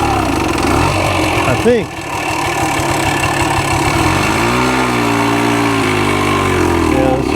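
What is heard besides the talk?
1965 Montgomery Wards Benelli scrambler motorcycle engine running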